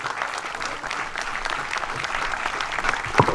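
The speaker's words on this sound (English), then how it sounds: "would you give a round of applause for my son, the youngest of the Lion's Pride, Lieutenant Quentin Roosevelt." Outdoor audience applause at a July 4th gathering at Sagamore Hill, a steady wash of many hands clapping at moderate distance that holds for the full stretch without a break.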